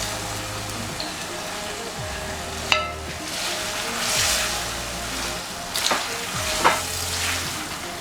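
Gizzard frying in a pan for a Nigerian gizzard and plantain sauce: a continuous close sizzle with a few sharp scrapes and stirs.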